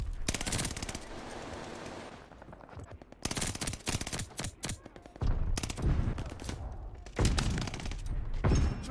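Sustained LMG fire in Call of Duty Vanguard, loud rapid automatic bursts repeating across the whole stretch with short gaps, dense and close, with explosive thuds mixed in.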